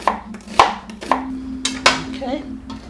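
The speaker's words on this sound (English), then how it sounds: "I'm going to cut the onion because I want to use this onion" An onion is chopped with a knife on a board, five or six sharp, close knocks spaced irregularly with a faint hum underneath and no talk.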